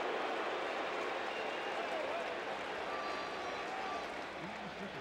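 Baseball crowd at Shea Stadium booing during a Mets game, a steady broad roar of many voices that fills the whole stretch and eases slightly near the end.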